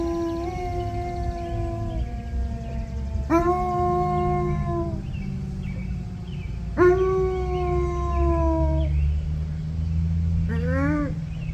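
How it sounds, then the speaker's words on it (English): A dog howls in long, sliding wails, several drawn-out rises and falls, over a steady low droning noon whistle in the background. "I got Jax howling at the noon whistle"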